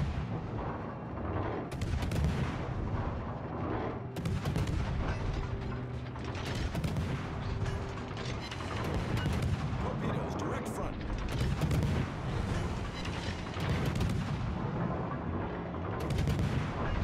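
Battleship main-gun fire and shell impacts in a naval warfare video game, a dense, continuous barrage of booming blasts and mechanical clatter with talk layered over it throughout.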